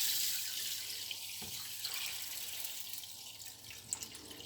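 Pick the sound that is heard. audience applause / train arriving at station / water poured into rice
water poured into rice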